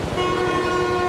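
A train rolls along in the Spider-Man 2 game, a steady loud rumble with sustained horn-like tones held across the whole short stretch, no talk over it.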